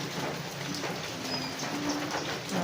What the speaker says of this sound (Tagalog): Matindi ang ulan.